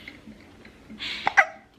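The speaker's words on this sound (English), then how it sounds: "There's a baby with hiccups directly behind the camera." A baby hiccups close by in a kitchen, two sharp little hiccups near the end following softer breathy sounds, fairly faint and heard alone.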